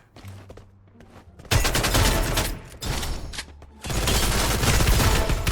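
Rapid bursts of automatic gunfire in the shooter game Free Fire come loud and close, two long sustained volleys separated by a short lull.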